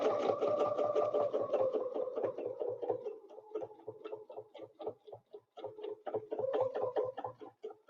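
A sewing machine stitches a quilt in ruler work, fast rhythmic needle chatter close by that runs continuously, then slows into shorter stop-and-start bursts.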